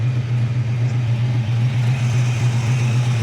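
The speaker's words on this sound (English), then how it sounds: "Nice sound of dual exhaust." A 1939 Chevy street rod engine idles with dual exhaust, a loud, close, steady low rumble with no talk over it.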